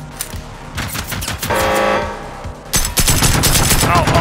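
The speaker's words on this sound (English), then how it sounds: "That's a gun." Gunfire in the video game Generation Zero, dense rapid bursts and sustained loud shots in quick succession, punctuated by a horn-like blare.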